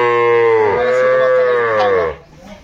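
Cattle on a farm of young bulls and heifers give a loud, close, drawn-out moo lasting about two seconds, then fade into quiet farm background.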